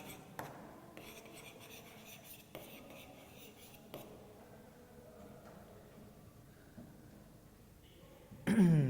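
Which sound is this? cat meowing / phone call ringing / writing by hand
writing by hand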